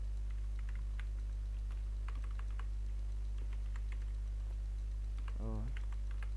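Computer keyboard keys clack in scattered bursts while C++ code is typed, over a steady low electrical hum, with a brief vocal sound near the end.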